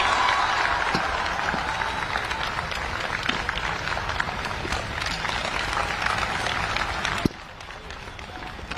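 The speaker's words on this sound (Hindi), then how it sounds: "ये ग्वालियर की तालियां नहीं है, पीछे तक सुनाई देनी चाहिए, ऐसी ताली होनी चाहिए।" Loud, dense crowd applause greeting dignitaries at a Gaurav Diwas event in Gwalior honouring Atal Bihari Vajpayee, sustained for about seven seconds before cutting off sharply to a quieter hall.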